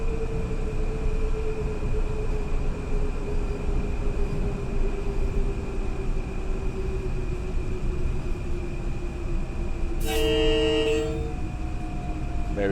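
In Train Sim World 6, a Metro-North train on the NEC route from New York to Stamford rumbles steadily in the cab, then gives one short, loud horn toot near the end.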